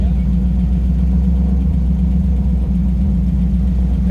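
A mid-1980s El Camino rolls past, its engine a loud, continuous low rumble close by that stays steady for the whole stretch.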